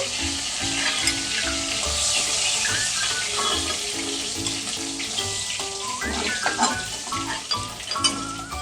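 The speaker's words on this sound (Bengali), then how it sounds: "আরও 2 পিস আছে, ভেজে নিচ্ছি।" Pieces of rui fish fry in oil in a pan for a Bengali tomato fish curry, making a loud, continuous sizzle with bursts of spitting and crackling that grow busier toward the end.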